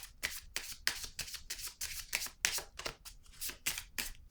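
A deck of playing cards being shuffled and a card drawn, giving repeated crisp riffling and flicking bursts in a steady irregular rhythm, close and fairly quiet, with no voices.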